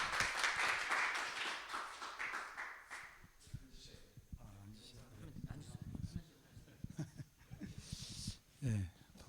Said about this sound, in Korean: 박수 해 주실래요?